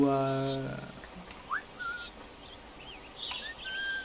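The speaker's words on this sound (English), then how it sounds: "Tuh kalau whistle ada gelombangnya gitu loh" Whistling in the video game Assassin's Creed Rogue: a short rising whistle followed by faint bird-like chirps and calls over a quiet ambient game background.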